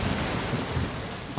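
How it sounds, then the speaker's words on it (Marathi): Steady heavy rain with low rumbling thunder in the background, a dense continuous wash of noise throughout with a slight swell near the end, no voices. "पाऊस पडतोय."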